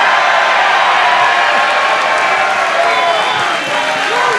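A live home crowd in a Philadelphia venue cheering and applauding for Chris Ryan, a loud, dense, steady wash of clapping and shouts throughout.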